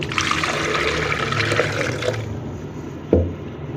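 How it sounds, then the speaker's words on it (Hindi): Water poured into kadhi pakora batter of gram flour, yogurt and spices, a close splashing pour that runs for about two seconds, then a quieter trickle and a brief knock. "और इसमें हम और पानी डालेंगे।"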